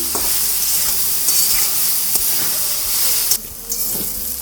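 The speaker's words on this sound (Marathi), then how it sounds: "दोन नग बटाटे घेतलेले आहे परतून घेऊया" Steady sizzling of potatoes frying in a pan with roasted peanuts, for sabudana khichdi, with occasional scraping and stirring knocks and a brief dip in the hiss near the end.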